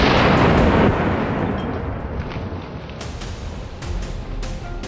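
A hunter's rifle shot at a wild boar during a hunt: one loud, close boom at the start that decays into a long rumbling tail, with faint later knocks.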